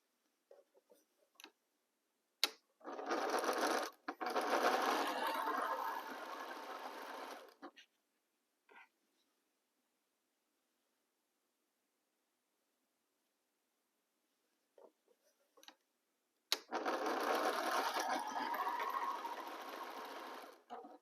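A sewing machine stitching aligned fabric pieces for a pumpkin project, two runs of fast, even mechanical whirring separated by a quiet pause, with clicks before each run.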